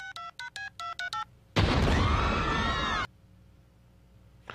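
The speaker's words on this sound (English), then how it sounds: "Damn phone's busted. Maybe I dialed wrong." A cartoon phone keypad beeps out a quick run of about seven touch-tone digits, then a loud, sustained burst of noise cuts in and stops abruptly.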